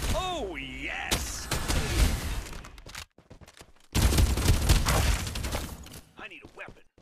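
Bursts of gunfire in the video game Farlight 84, dense crackling volleys in two loud stretches separated by a brief quieter pause, with game effects around them.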